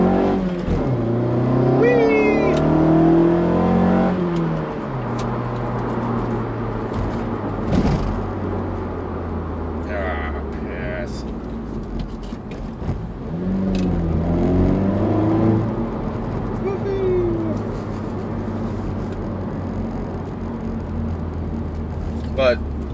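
A 2015 Mazda3 with an aftermarket intake and exhaust, its engine revving up and dropping in two loud surges with a rising whine, then idling and cruising, with talking over parts of it.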